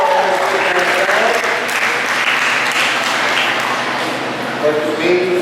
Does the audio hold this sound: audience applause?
yes